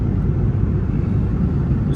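Steady low engine rumble inside an airplane cabin in flight, a constant droning hum filling the space without break.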